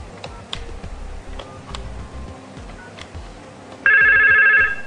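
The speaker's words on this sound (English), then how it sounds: "extension 8007 is ringing and shows the caller ID 8000" An IP phone extension on a Yeastar MyPBX system rings, starting partway through, a loud steady warbling electronic tone following quieter clicks and background noise.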